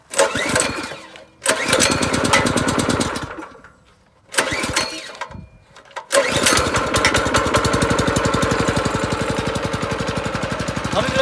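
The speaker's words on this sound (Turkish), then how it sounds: "motor çalıştı" Kaan 250 S 7 HP petrol tiller engine cranked several times in short bursts with silent gaps between them, then catching and running steadily with a loud, rhythmic chugging close by.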